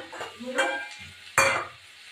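Fried cauliflower with onion greens is stirred in a pan, giving a soft sizzle broken by two scraping, clattering strokes of a utensil against the metal, close and fairly loud.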